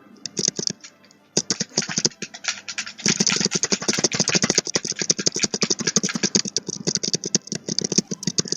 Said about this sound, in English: So enjoy hearing the sound of just fingers mashing against.